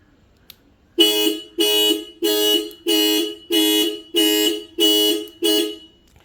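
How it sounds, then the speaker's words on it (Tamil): A parked Tata Nexon petrol's alarm gives eight loud, evenly spaced electronic blasts, each lasting about half a second with short gaps, sounding alone with no talk. "நமக்கு வெஹிக்கிள் எங்கே இருக்குங்கிறது அலாரம் சவுண்டு கேட்கும்."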